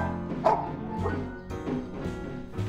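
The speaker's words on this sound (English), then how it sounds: "Herbie was barking in a rage." A dog named Herbie barks in a series of about five close, loud woofs in a rough rhythm, with no voices over it.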